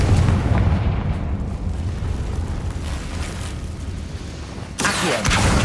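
Confringo fire-blast spells in Hogwarts Legacy erupt as a dense, rumbling wall of explosive noise that fills the whole stretch, with a fresh, sharper burst near the end.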